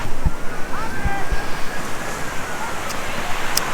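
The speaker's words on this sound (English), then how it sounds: "Oh, hey, we had some waves." Ocean waves break and wash up on Waimea Beach on Oahu's North Shore, a steady rushing surf roar with wind buffeting the microphone and faint voices in the distance.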